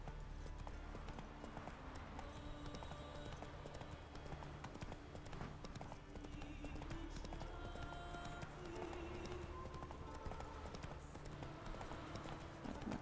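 Hooves of a horse clip-clop steadily and close while being ridden across open country in The Witcher 3, a continuous rhythmic gait over soft game ambience and music.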